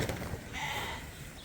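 A Dorset ewe on a sheep farm lets out a single drawn-out bleat lasting about a second, moderately close over faint farm background.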